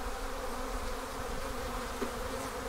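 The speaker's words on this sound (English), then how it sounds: "We've got some bees on this one." Honey bees buzz steadily at an open Langstroth-style hive, a continuous close drone that stays even throughout with no talk.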